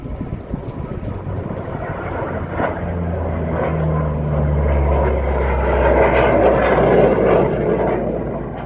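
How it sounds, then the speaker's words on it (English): Austrian Air Force Eurofighter Typhoon jets fly past at the RIAT airshow, a loud, continuous broadband jet roar that swells gradually with rumbling low end over the whole stretch. "Just like the RIAT typhoons, those are the Austrian Air Force."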